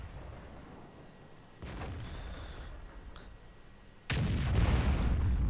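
Tank cannon fire in World of Tanks on the Fishermans Bay map, with a sharp boom around mid-clip and a louder, heavier blast near the end over steady low game rumble.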